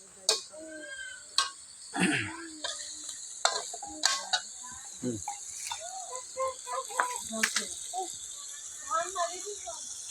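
Duck curry with spices sizzles as it is sautéed in a pan, with repeated stirring scrapes and clatters while a person talks throughout.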